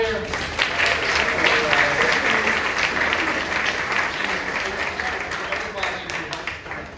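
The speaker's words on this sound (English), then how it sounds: "let's give a round of applause to our musician for the morning" A congregation applauds a musician at a morning service, loud dense clapping that holds steady for several seconds and slowly thins, with some voices mixed in.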